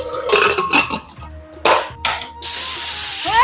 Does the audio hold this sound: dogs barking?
no